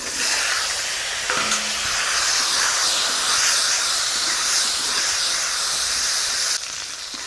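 Cut potatoes drop into hot oil with spices, a loud, continuous hissing sizzle that fills the whole stretch, close by, easing slightly at the very end.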